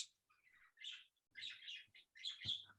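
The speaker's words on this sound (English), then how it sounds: "I think I can hear a parrot" A parrot gives a run of short chirping calls in the background, faint and broken into bursts, with brief pauses between them.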